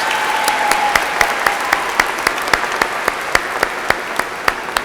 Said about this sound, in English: Let's give them a beautiful round of applause.